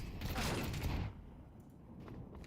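A grenade thrown in Counter-Strike 2 during a competitive round, a loud dense roar and crackle of gunfire and blast noise for about a second, then dropping to a quieter rumbling background.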